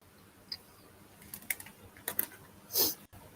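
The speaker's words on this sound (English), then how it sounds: "Yeah, I'm typing in chat." Quiet, irregular tapping of keys on a computer keyboard, a handful of soft clicks in short bursts with a louder clack near the end.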